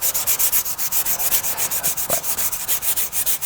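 Bondo body filler being sanded by hand with sandpaper, a steady rhythmic scratchy rasp of quick back-and-forth strokes, close and continuous with no talking.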